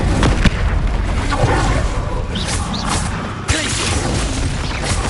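Incendio fire spell blasts in the Hogwarts Legacy video game, loud and dense with a sharp burst near the start and another midway, amid continuous rumbling combat noise.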